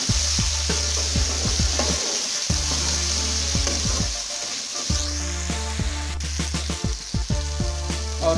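Chicken biryani mixture frying in a pan in a village-style kitchen, continuous loud sizzling with repeated scraping and clinking as a spoon stirs, close up, a brief lull partway through.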